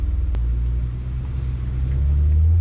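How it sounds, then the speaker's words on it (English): A car in manual mode pulls through the gears with a deep, steady exhaust rumble from inside the cabin that grows slightly louder as it accelerates. A faint rasp from the exhaust runs underneath, and no one speaks. "I've got it in manual mode and we'll drive through the gears"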